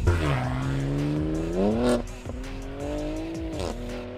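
A rear-wheel-drive car accelerating hard, its engine revving loudly and climbing through gears with tire squeal, close and alone without talk.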